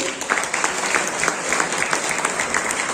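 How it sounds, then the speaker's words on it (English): Audience applause at a university awards ceremony, a steady dense clapping from a large crowd, fairly loud and continuous throughout with no voice over it. "Big round of applause for them."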